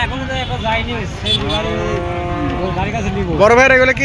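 Cattle low loudly and close by at a busy livestock market in Singra, Natore, with long harmonic moos rising and falling over crowd murmur and a voice.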